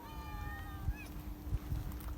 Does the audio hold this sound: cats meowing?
yes